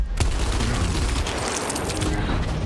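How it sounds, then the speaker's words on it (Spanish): Dense, continuous gunfire from the Gears Tactics video game, a steady rattling volley of shots filling the whole stretch at a fairly loud, even level with no pauses. "Le disparas."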